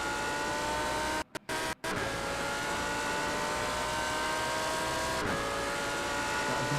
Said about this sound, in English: That V10 is loud, man.